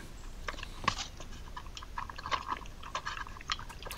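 Badgers crunching nuts at night, picked up by a WiFi trail camera, with faint close bursts of crisp cracking and chewing scattered irregularly over quiet background.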